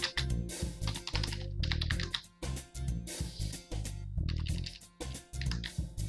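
Rapid keystrokes on a computer keyboard come in irregular bursts with short pauses between them, close and fairly quiet.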